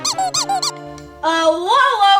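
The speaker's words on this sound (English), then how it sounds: "No squeaky toys on my bus." A squeaky toy squeaks in four quick, bright bursts, followed by a longer, wavering squeak after a short pause, loud and close.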